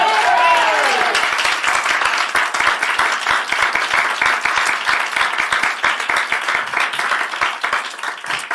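A church congregation applauds during a Sunday morning worship service, loud dense clapping that swells right after a brief fading tone and carries on steadily, with crowd noise mixed in.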